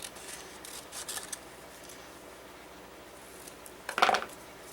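A pair of scissors snips through paper during a watercolor folio craft project, giving a short crisp cutting burst near the end after faint quiet rustling, fairly close and with no talking.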